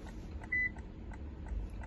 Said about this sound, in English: a working key, you get one beep